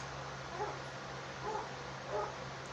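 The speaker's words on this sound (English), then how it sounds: "Ignore the dogs, I'm sorry. It's the second time they've done it." Dogs indoors give three faint whimpers and yips, spaced about a second apart, under a steady background hum.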